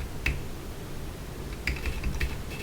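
Typing on a computer keyboard during an ethical hacking session, a few soft, scattered key clicks, one near the start and a cluster toward the end, quiet and close with no talk.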